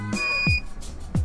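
A steady high electronic tone from a buzzer, switched by a sound-detecting sensor on a Wemos D1 Mini, sounds over low claps and thumps, with a brief louder beep partway through.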